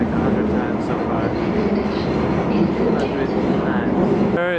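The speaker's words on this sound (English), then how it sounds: "Taking the train, we did this like 100 times so far." Inside a London train at night, a loud, steady rumble of wheels on rails carries throughout, with faint clattering and a brief squeal at the very end.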